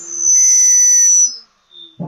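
A workshop dust collection system gives off a loud, steady high-pitched whistle that holds for over a second and then cuts off, followed by a faint tone and a brief low thump.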